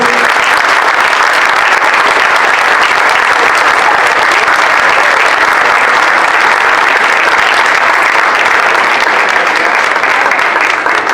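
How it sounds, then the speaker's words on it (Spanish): Sustained audience applause fills a conference hall, a dense, loud wash of many hands clapping evenly for about eleven seconds without letting up. "Vamos a brindarle un gran aplauso."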